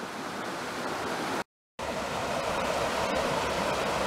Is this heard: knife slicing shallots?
no